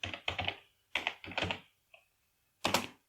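Computer keyboard keys clatter in short bursts of rapid typing, a few quick clusters of clicks followed by a single faint tap and a final firm keystroke, close and alone in a quiet room.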